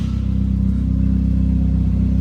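A cold 2010 Toyota Corolla idles with its DPW stainless steel exhaust diffuser open, a loud, deep, steady rumble with a fast even pulse throughout, close and with no speech.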